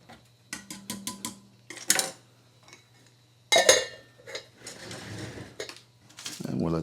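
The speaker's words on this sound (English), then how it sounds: "Give it a little stir." Ration food being stirred in a small pot, with a series of scraping clinks of utensil against metal in quick bursts separated by pauses and a faint low hum underneath.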